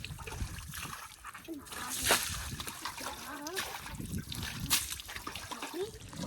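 A goat gets bathed on a dairy farm, with irregular water splashes and trickles close by, mixed with a voice talking over the sloshing.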